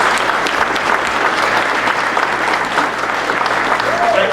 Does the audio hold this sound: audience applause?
yes